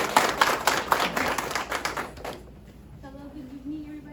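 Applause from an audience welcoming a presenter at a senior presentation evening, a burst of clapping that fades out after a couple of seconds, leaving a quiet room with a faint voice starting.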